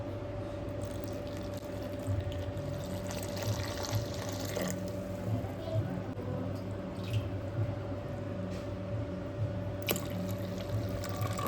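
Water is poured from a glass into a Malvani masala spice mix with turmeric and coriander, a soft liquid pour over a steady low background hum.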